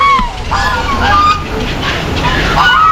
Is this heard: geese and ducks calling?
yes